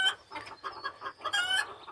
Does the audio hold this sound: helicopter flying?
no